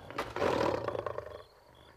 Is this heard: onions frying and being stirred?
no